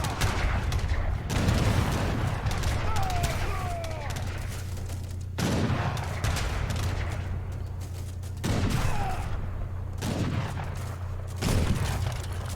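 Heavy cannons and massed musket volleys boom and crackle through a real-time strategy game battle between sepoys and infantry, with bursts of gunfire repeating in waves under steady low rumble and faint speech.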